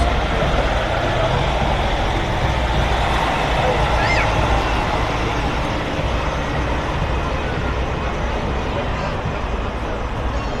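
A large emergency response truck used for semi and commercial crashes rolls by in the Jackson Apple Festival opening parade on Main Street in Jackson, Ohio, its steady engine rumble mixed with broad crowd and street noise throughout.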